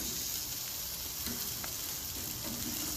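Burgers and shrimp sizzling on a Charbroil Signature two-burner infrared grill: a steady, close, broadband frying hiss with faint crackles and a few soft scrapes, no voices.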